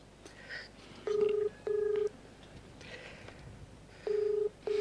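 An outgoing phone call to an MLA plays its ringback tone: two double-beep rings, each a pair of short steady tones, over a faint, quiet room background.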